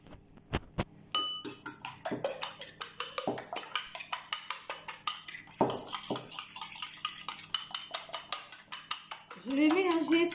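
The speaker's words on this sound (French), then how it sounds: "je vais casser les 3 œufs et je vais les battre en omelette" Three eggs beaten in a bowl with a whisk or fork for madeleine batter, a fast, steady run of close clinking taps against the bowl that continues for several seconds, with a few louder knocks and a voice near the end.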